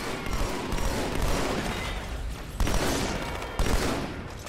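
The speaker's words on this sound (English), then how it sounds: "I shot you in the back" Continuous gunfire from a Halo 2 Anniversary firefight, a dense rattling barrage with two heavier bursts near the end, loud and close with no talking.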